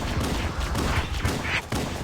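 Rapid pistol gunfire in Halo: Combat Evolved on Legendary, sounding as dense overlapping bursts of shots under a continuous battle din, loud throughout with a brief dip near the end.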